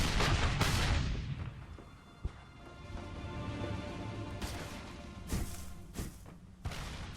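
An artillery battery bombards in a Gettysburg war strategy game, with a loud boom at the start and more deep cannon blasts and gunfire cracks at intervals against low rumbling battle ambience.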